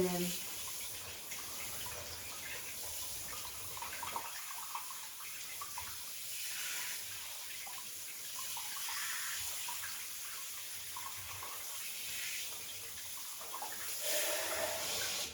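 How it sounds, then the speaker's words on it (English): Tap water runs steadily into a shampoo bottle while a dog is being groomed, a continuous splashing hiss that swells near the end, with faint talk underneath. "put a touch of water in my shampoo like that"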